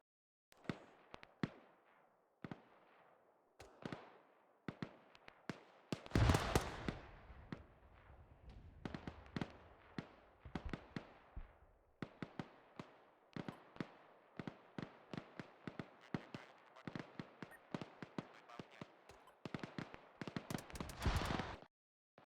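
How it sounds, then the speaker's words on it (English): Gunfire in the Arma 3 war game, many sharp distant shots cracking in irregular bursts and single reports, with a dense volley around six seconds and another cluster near the end. "Shots west."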